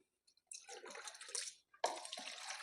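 Fish pieces being washed by hand with coarse rock salt and water, close wet splashing and squishing in two bursts separated by a short pause, with no voices.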